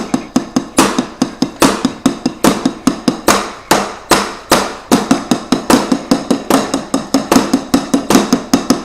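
Steady drumming on a Yamaha DTX500 electric drum set as heard in the room: a continuous run of sharp, clacky thwacks from the rubber pads, with quick repeated hits and occasional accented strikes. Close and fairly loud, no voices.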